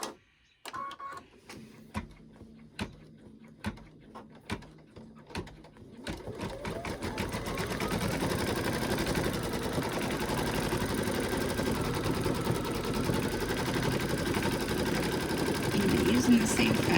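A home embroidery machine sews the placement line for an in-the-hoop monkey bib, opening with a few spaced single stitch taps and then settling into a fast, continuous mechanical whirr that runs steadily to the end.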